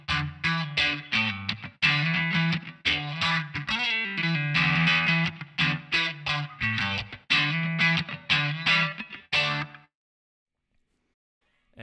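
Funky electric guitar turnaround lick, with slides up and back and pull-offs. It plays as loud, choppy, distorted phrases in a steady groove, heard alone, then cuts to silence near the end.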